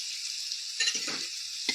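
Spice paste for ghugni, with Kashmiri red chilli powder and salt, fries in a pan with a constant hiss, broken by two or three short stirring scrapes.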